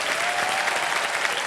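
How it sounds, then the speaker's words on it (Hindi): A television quiz show studio audience gives a contestant a burst of loud, dense, continuous applause, a wash of many hands clapping together with no voices over it. "और जोरदार तालियां बजाएं इनके लिए।"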